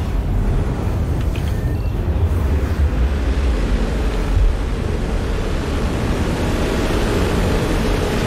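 Overheated engines of a Constellation spaceship in the Star Citizen video game roar as a dense, steady rumbling hiss, loud and unbroken with heavy low-end weight and no talking.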